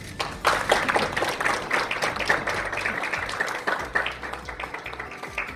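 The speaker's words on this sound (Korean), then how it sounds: "다시 한번 뜨거운 박수를 부탁드립니다" An audience at a party welcoming event for newly recruited figures claps at moderate volume, a busy patter of individual hand claps running steadily without talk.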